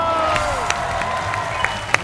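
A studio audience at a televised sketch comedy competition applauding and cheering to welcome the committee presidents: dense clapping and crowd noise throughout, with a host's voice over it and a whistled note near the start.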